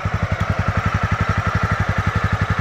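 Honda CB300R motorcycle idling nearby, a steady, even thumping pulse repeating about eight times a second, loud and alone.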